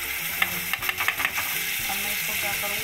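Curd is stirred into tomatoes frying in ghee, a steady sizzle with a quick run of spoon scrapes and taps near the start, then continuous frying alone.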